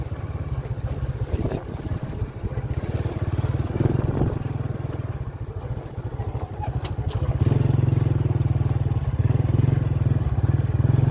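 A motorcycle rides through the fields, its engine a steady buzzing drone that grows louder and closer partway through, with wind rushing over the microphone.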